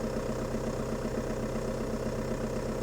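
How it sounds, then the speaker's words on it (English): A car engine idles steadily with a low, even rumble and no break, set up for a clutch test. "Start the engine, push the clutch pedal to the floor, then select first gear."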